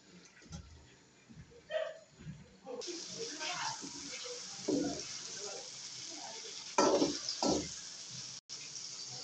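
Chopped onions hit hot oil, and a steady broadband sizzle starts partway through and keeps going, with occasional louder spatters. A person talks over the frying.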